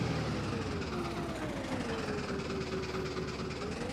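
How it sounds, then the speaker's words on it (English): A tractor engine in the farming game Farming Simulator 22 runs with a loud, steady drone for the whole stretch, and a tonal whine slowly shifts in pitch above the rumble. "So let's jump into the noisy tractor."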